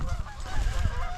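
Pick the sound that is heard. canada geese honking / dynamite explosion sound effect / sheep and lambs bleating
canada geese honking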